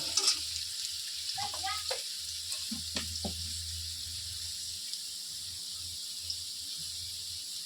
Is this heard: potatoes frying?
yes